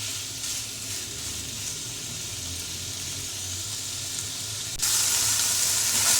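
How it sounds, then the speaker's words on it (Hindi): Chicken marinated with garlic, ginger, black pepper, salt and a little oil sizzles steadily in a hot pan, a close, continuous crackle that grows noticeably louder and brighter near the end, with no voices. "ये देखें ये चिकन मेरा अच्छी तरह फ्राई हो चुका है।"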